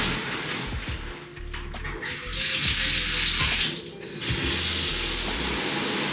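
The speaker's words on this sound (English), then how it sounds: "So I'm about to like get in the shower and get ready for that." Steady running water from a shower pours continuously and loudly up close, a broad even hiss that briefly dips and shifts as the flow is interrupted, with no talking.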